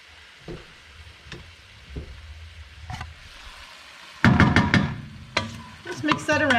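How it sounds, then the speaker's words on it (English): Garlic and onions hit melted butter in a pan: a few soft taps and clinks at first, then a sudden loud sizzle as they go in, followed by crackling and stirring close by. "So I'm going to add the garlic and onions to my rice butter."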